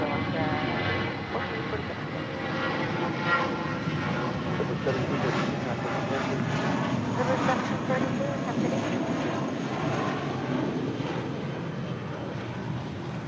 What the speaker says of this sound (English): JetBlue departing to Salt Lake City